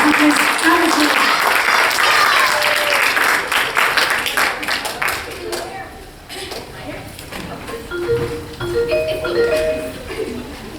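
A school band audience at a high school gives a loud round of applause that tapers and fades over several seconds as band music returns beneath it.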